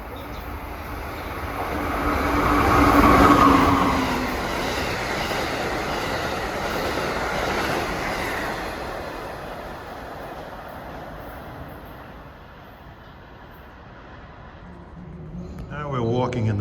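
A New Haven Line commuter train passes Mamaroneck station with a broad, steady roar of rolling cars. The rumble builds to a peak early, holds as the cars go by and then slowly fades. A voice briefly speaks near the end.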